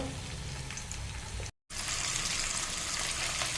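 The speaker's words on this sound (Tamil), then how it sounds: "லைட்டாக எண்ணெய் சேர்த்துக்கலாங்க இது அப்படியே வேகட்டும்" Masala-coated fish frying in a light amount of oil, a steady close sizzle and hiss that drops out briefly partway through, then resumes just as evenly, with no talking.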